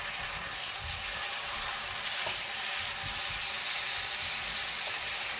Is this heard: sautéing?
yes